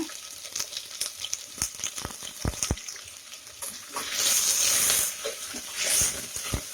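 Thinly sliced onions sautéing in a pan for tomato rice, light sizzling broken by sharp spatula taps, then swelling into louder hissing bursts near the end.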